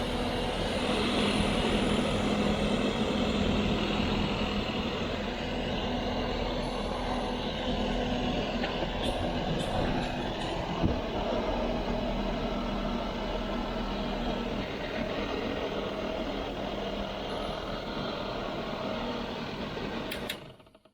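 A vintage camper roof vent fan runs steadily and close, a constant whirring motor drone with a faint rattle, holding even for the whole stretch before cutting off at the end.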